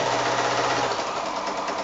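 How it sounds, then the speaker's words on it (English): Sewing machine chain piecing a large nine-patch quilt block, a steady fast mechanical whirring and needle chatter running continuously at close range for a couple of seconds, no voices. "and then back to the sewing machine"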